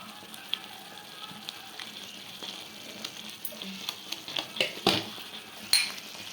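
Thondekai (ivy gourd) curry masala frying in a pan, a faint steady sizzle with scattered clinks and scrapes of a utensil against the pan growing more frequent toward the end.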